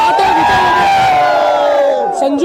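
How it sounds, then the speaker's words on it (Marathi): Party workers roar and shout together in a victory celebration after an election win, a loud, sustained massed crowd cheer with raised voices, close and dense. "विजयी जल्लोष"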